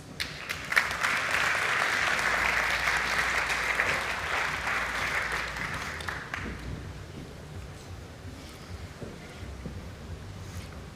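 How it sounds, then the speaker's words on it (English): An audience at a panel event applauds its three panelists, a broad wash of clapping that is strongest early on and then gradually thins and fades toward quiet scattered claps. "please give a round of applause for our three panelists"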